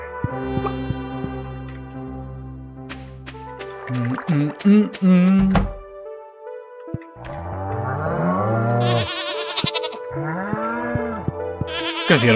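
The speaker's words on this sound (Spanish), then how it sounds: "¿Qué hicieron ya las ovejas? ¿Las cabras?" Sheep and goats bleating in the Stardew Valley farming game, several harmonic calls at mid distance, with background game music and someone talking over parts of it.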